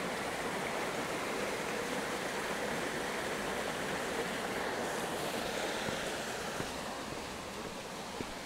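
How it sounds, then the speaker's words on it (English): Large waterfall in a Japanese garden, a steady broadband rush of falling water that holds constant and fairly loud throughout, with no voices over it. "Pretty large waterfall over there."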